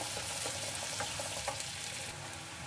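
Finely chopped onions frying in a pan until golden brown for kadai paneer, a soft, even sizzle with light stirring scrapes, faint and continuous with no voices.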